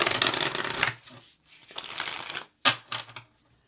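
Oracle cards being shuffled in several crisp riffling bursts with short pauses between, close up and fairly loud, with no voices.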